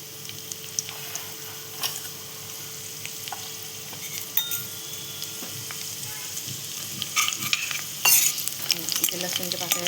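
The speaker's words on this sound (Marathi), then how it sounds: "इथे लसूणच्या पाकळ्या घातलेल्या आहेत आपण." Garlic cloves frying with cumin seeds in a pan for a Marathi monsoon wild-greens dish, a continuous close sizzle with scattered clinks and scrapes of a spoon stirring, growing busier toward the end.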